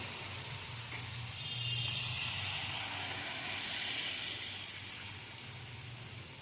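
Dal with a fish head and spices boils steadily in a pot, giving a soft, continuous hissing bubble that rises and falls gently, with no voices over it.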